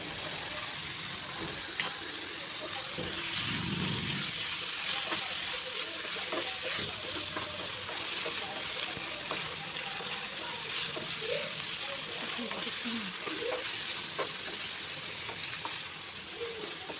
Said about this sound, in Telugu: శుభ్రంగా వాష్ చేసుకున్న పచ్చిరొయ్యలను వేసి ఒకసారి కలుపుకుని 1 నిమిషం పాటు వేయించుకోవాలి